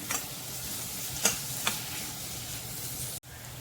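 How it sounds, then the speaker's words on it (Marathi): Chopped onions fry steadily in a pan for a Maharashtrian chicken curry, a soft continuous sizzle with a few brief stirring scrapes and a sharp knock near the end. "कांदा आपला छान सोनेरी रंगावर भाजला गेलाय"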